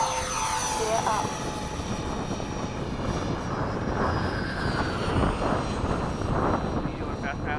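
A Freewing 90mm F/A-18C Blue Angel RC jet with electric ducted fans roars past in a steady whooshing whine, loud and continuous at a flying field, with a descending tone at the start.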